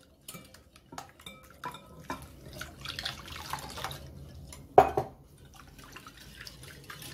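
A whisk or spoon clinks and scrapes against a deep bowl while eggs, salt, sugar and warm milk are mixed into pancake batter, with light taps and a sharp louder knock near the end.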